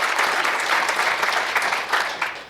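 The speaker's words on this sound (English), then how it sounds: "I'd give her a round of applause" Conference audience applauding after a session, a dense, steady wash of many hands clapping at once, loud and close, filling the room without a break.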